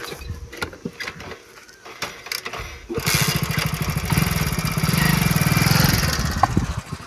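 A new motorcycle engine starts after a few seconds of quiet clatter, then idles and revs loudly and steadily close by, its throbbing drone rising slightly before settling.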